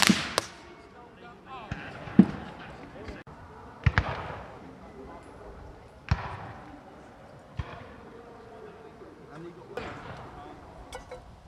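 Musket volley at a military reenactment in Kent, England: a series of sharp, loud bangs spaced a second or two apart, echoing across open ground amid background crowd noise.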